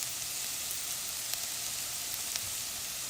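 Thinly sliced garlic and red pepper flakes sizzle in a pan, a soft, steady crackle with faint scattered pops, heard quietly and alone.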